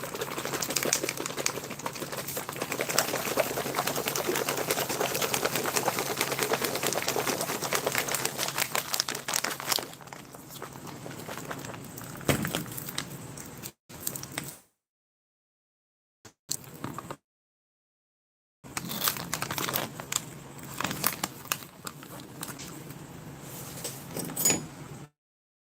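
A folded plastic Norwegian field ration pouch of vegetarian pasta in tomato sauce is shaken hard, giving continuous loud crinkling and rustling, then shorter bursts broken by brief silences.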